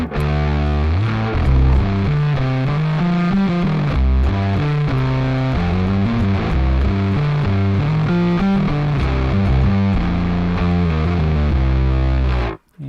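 An instrument played through a Darkglass distortion pedal set to its third mode, a sustained run of heavily distorted, buzzy notes and chords that holds loud and steady for about twelve seconds before stopping abruptly.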